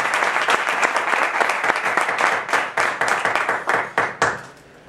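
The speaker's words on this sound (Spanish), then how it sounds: "un fuerte aplauso para Ronald Cifuentes en la percusión de la conga y timbal" Strong audience applause for a conga and timbal percussionist at a Latin jazz concert, a thick run of many hands clapping that thins into a few last distinct claps and fades out.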